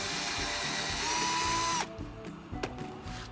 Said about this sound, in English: So we're gonna start the drill.